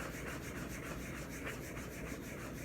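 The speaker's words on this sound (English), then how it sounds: "Now I'm going to go in with a little Scotch-Brite pad." A Scotch-Brite pad scrubs across boot leather to distress it, a faint, continuous dry rubbing with quick back-and-forth strokes, close up and alone.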